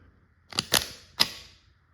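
A Byrna LE less-lethal launcher is charged with three quick, sharp mechanical clacks, the last slightly separated, close and crisp against near silence.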